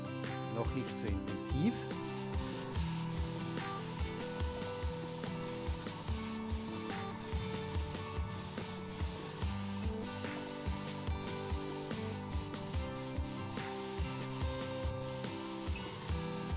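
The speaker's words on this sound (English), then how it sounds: "I spray on the color evenly" A steady airbrush hiss sprays paint continuously at close range, with faint tapping and handling noises underneath.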